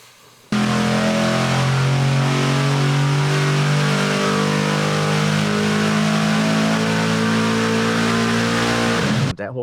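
A poorly running, under-timed, over-rich car engine with an oil pressure problem revs hard and steadily on a dyno for several seconds, its pitch slowly climbing, loud and close, then cuts off abruptly.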